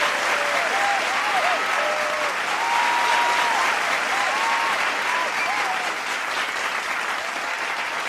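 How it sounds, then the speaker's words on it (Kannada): An audience at an award ceremony for the Daksha Seva Ratna award claps continuously, with dense, even applause sustained throughout at moderate loudness. "ನಿಮ್ಮ ಚಪ್ಪಾಳೆಯ ಪ್ರೋತ್ಸಾಹದೊಂದಿಗೆ ಗೌರವಿಸಲಾಗ್ತಾ ಇದೆ."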